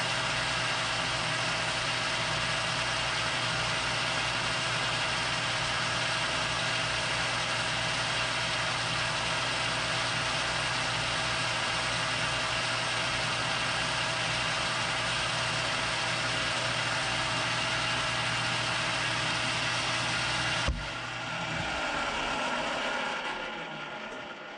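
A metal lathe taking a light finishing cut on a diameter, with the cross slide dialed in, runs as a steady, close, continuous mechanical hum and whir that stops abruptly near the end.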